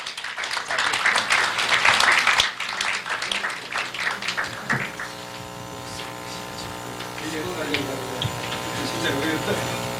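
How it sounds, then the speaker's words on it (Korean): An audience applauds warmly to welcome a speaker at a Korean civic group's launch ceremony: dense clapping for several seconds that fades out, followed by someone speaking over a faint hum. "따뜻한 박수로 모시겠습니다"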